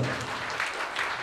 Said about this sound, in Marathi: त्यासाठी या दोघांसाठी जोरदार टाळ्या व्हायला पाहिजे.